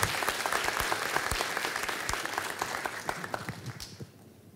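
An audience in a theatre applauds a choir at a Christmas concert, a dense patter of many hands clapping steadily that gradually fades out toward the end.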